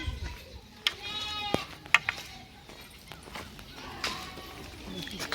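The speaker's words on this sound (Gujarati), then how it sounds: "બકરા આવી ગયા છે ને બકરાને દોબાણ થઈ ગઈ ચાલુ" Goats bleat now and then amid scattered knocks and shuffling, with people talking in the background.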